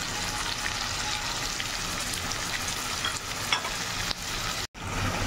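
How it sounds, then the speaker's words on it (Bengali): Ground spices frying with dried fish (shutki) in a pan, giving a steady, dense, close sizzle with a brief dropout near the end. "এটা দিয়ে আগে কিছুক্ষণ মশলাটা কষিয়ে নেবো এই শুটকি মাছের সাথে"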